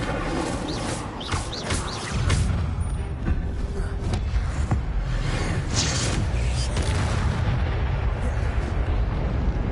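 Incendio fire spells cast in Hogwarts Legacy, a string of loud, sharp bursts and booming blasts over a rumbling, crackling fire bed, with a voice speaking in between.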